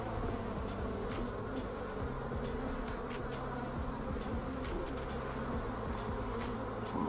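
Honey bees hum in a queenless hive, a dense, steady buzzing drone that fills the whole clip, close and even, with no voices.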